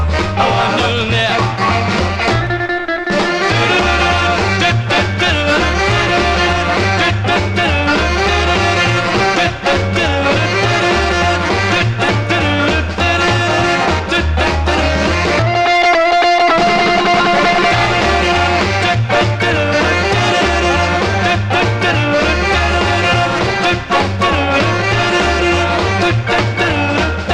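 A late-1950s doo-wop vocal group record plays loudly and continuously, harmonizing voices over a bouncing bass and steady rhythm, with one brief dropout.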